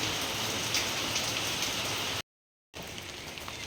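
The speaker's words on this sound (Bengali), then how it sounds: "তো হালকা বৃষ্টি পড়ছে, আর আমরা বেরিয়ে পড়েছি" Light rain falls steadily on outdoor surfaces, giving an even, close hiss with soft patter, broken by one brief silent gap before it resumes.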